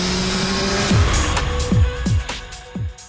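A Nissan R32 GTR and a Subaru Impreza launch in a roll race, their engines revving hard through a series of rapid upshifts. The loud, close acceleration is punctuated by repeated gear-change drops.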